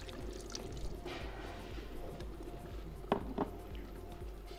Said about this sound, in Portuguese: Eu vou colocar água agora.